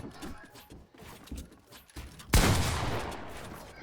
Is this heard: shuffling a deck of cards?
no